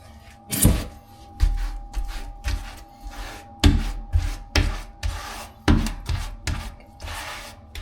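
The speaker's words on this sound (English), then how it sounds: "flip it sideways, scrape as much as you can off" A grout float held sideways scrapes excess grout off tiles in repeated rough strokes, about a dozen rasping passes with short pauses, loud and close with no talk.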